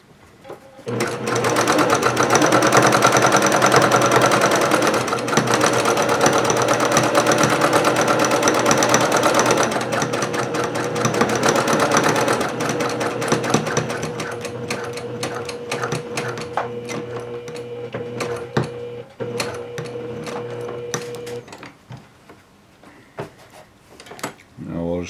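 Sewing machine stitching a courier bag, a loud steady whir for most of the run, then slowing into short bursts and single stitches near the end, with talk at times.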